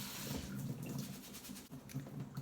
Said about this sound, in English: it's suggested to give your quinoa a rinse. So I'm just going to run it under the water